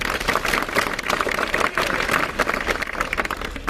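Steady applause from a street-theatre audience at an anti-drug awareness play, dense continuous clapping throughout at close range with no talk over it.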